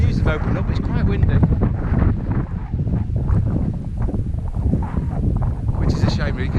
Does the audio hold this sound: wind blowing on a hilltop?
yes